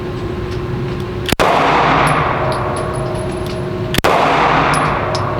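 Handgun shots at an outdoor target range, two loud, sharp cracks about two and a half seconds apart, each followed by a long ringing metallic decay.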